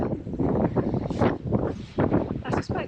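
Strong gusting storm wind, around 75 km/h, batters an exposed hilltop edge, roaring in loud, uneven buffets against the microphone with brief lulls between.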